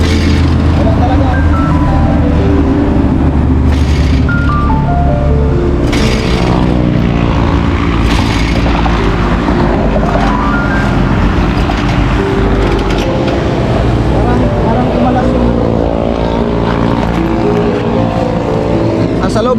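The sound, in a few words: motorcycle with damaged engine running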